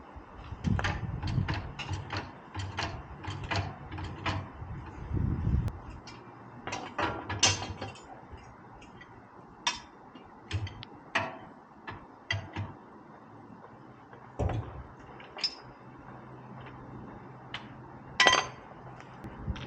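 Repeated metallic ratcheting clicks of a jack lifting an Indespension trailer come in short bursts with pauses between them, close by, with a few louder clanks mixed in.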